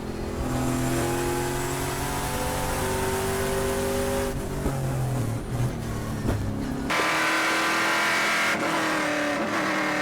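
Trans Am race cars roar around the Thunderhill circuit in a sustained loud engine drone that rises and falls as they accelerate and pass, with a sharp change in engine note partway through.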